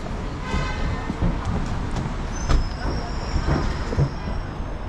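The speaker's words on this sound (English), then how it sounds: "There's the train right there." A train rumbles past in Guiyang, China, with rhythmic clacking of wheels and a thin metallic squeal rising partway through.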